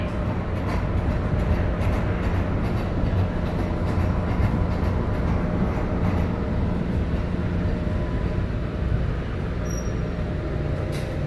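An MBTA Green Line train travels between Eliot and Brookline Hills, its low steady rumble and rail noise loud and continuous from inside the car.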